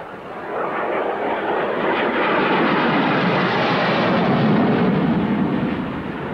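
A military jet roars past at a 1986 airshow in Leicester, a loud, broad engine rush that swells steadily over several seconds and stays strong throughout, heard alone without any talk.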